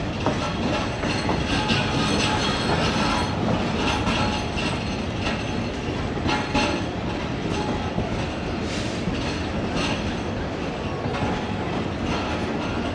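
A passenger train at Kasur Junction rumbles along with a loud, continuous rolling roar and rhythmic clickety-clack of wheels on rails, heard up close throughout.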